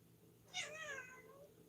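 A single drawn-out cat meow, fairly faint, rising then trailing off over quiet room hum.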